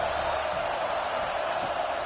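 A steady roar from a packed stadium crowd at a college football game, Mississippi State against Arkansas, sustained and fairly loud with no distinct cheers or claps standing out.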